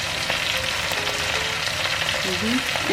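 Bicol Express fries in a pot over low heat with a constant, close sizzle and crackle that holds at an even level throughout.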